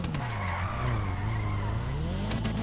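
Tires squeal continuously as a car drifts through a city street in GTA 5, with a steady engine drone under a long, unbroken skid.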